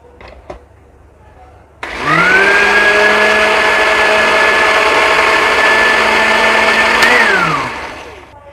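A countertop blender motor spins up and runs steadily for about five seconds, churning cream and water into homemade butter, loud and close with a rising whine before winding down; no one talks over it.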